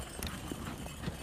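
Horse hooves clip-clop in a snowy winter setting where horse-drawn sleighs give rides, several quick soft hoofbeats under a steady outdoor noise bed.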